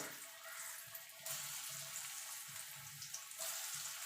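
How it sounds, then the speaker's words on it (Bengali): Dhoka lentil cakes fry in white oil in a pan, giving a steady, faint sizzle that runs throughout without any talk. "আমি সাদা তেলে ভাজছি, আপনারা চাইলে সর্ষের তেলেও ভাজতে পারেন।"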